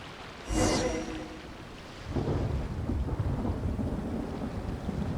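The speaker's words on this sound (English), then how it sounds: "Where'd that thunder come from?" Thunder from a storm in the video game Genshin Impact: one loud crack that rolls away, then a steady wash of heavy rain and low rumble that lasts to the end, with no voices.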